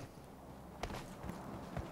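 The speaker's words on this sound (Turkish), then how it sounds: "Daha yine ayak sesi verdi." Enemy player footsteps in the shooter game PUBG Mobile, three or four faint, quick steps over a low, steady game background.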